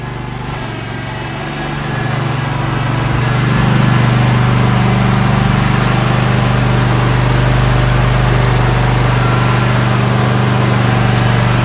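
A lawn mower engine runs steadily as the mower is driven onto a 7x16 lawn care trailer, a loud continuous drone that swells slightly over the first few seconds and then holds even.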